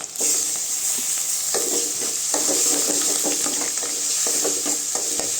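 Ginger garlic paste frying with onions in oil for a goat intestine kuzhambu, a loud close sizzle with repeated scraping stirs at an irregular rhythm and no talking.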